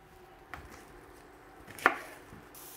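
A knife chops onion on a board for a lamb stew, giving two sparse, faint knocks about a second apart with quiet kitchen background between them and no talking.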